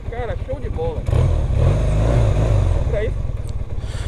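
A Honda CB450 Custom motorcycle, an old bike with its original exhaust, revs up close by, its engine rising to a loud steady roar mid-clip while someone talks before and after.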